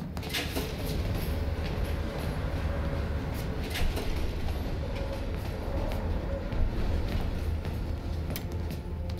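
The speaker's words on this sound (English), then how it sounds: "Train's slowing down." A continuous low rumble and rattle of a moving train in the video game Call of Duty: Black Ops Cold War, with steady mechanical clatter and occasional brief higher-pitched screeches, no voices.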